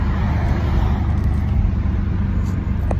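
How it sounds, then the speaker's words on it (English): A Dodge Charger R/T with a muffler delete idles and revs loud and close, a steady deep engine rumble filling the whole stretch with no talk over it. "So let's see what happened when I rev it when the windows is rolled down."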